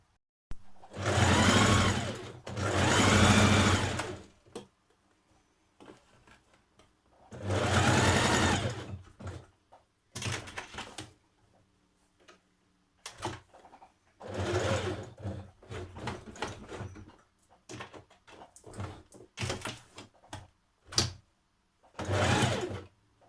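Sewing machine stitching a tiny hem on a top, several loud bursts of rapid whirring motor and needle chatter separated by quiet pauses and small handling clicks.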